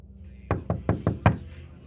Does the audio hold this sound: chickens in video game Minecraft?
no